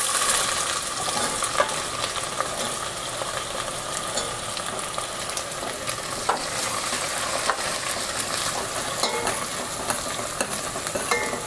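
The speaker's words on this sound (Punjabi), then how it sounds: "ਹੁਣ ਆਪਾਂ ਪਿਆਜ਼ ਭੁੰਨਾਂਗੇ" Onions fry in a pan for a homestyle chana dal, giving a dense, even sizzle and crackle that runs unbroken for over ten seconds, with occasional faint stirring ticks and no speech.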